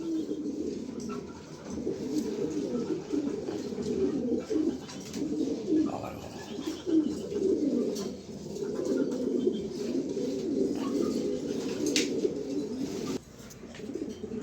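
Several race-trained pigeons in a loft coo continuously at close range, with soft overlapping throaty calls rolling on throughout and faint rustling in the background.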